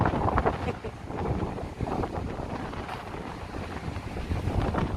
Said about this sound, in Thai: ลมเย็น ลมเย็น เย็นสบาย